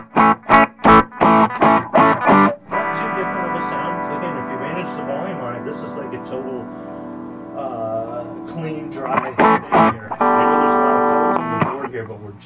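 Electric guitar played through a Mojotone 5F1 Tweed Champ amp with distortion pedals, an 808-style overdrive among them, with no reverb: a few strummed chords, then long sustained distorted notes and bends, then more stabs and a held chord.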